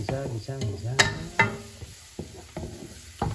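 Pork pata being sautéed in a pan for kare-kare, with scattered scraping and knocking of a utensil against the pan over a faint sizzle, and someone talking throughout.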